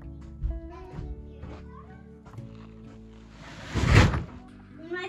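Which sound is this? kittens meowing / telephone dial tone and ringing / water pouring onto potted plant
kittens meowing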